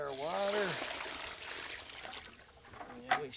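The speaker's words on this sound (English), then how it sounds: "So you mix it up dry first, just like that. Then we add our water," A short voiced sound opens, then water pours and trickles steadily into dry mortar mix for a stone patio, with a faint splash near the end.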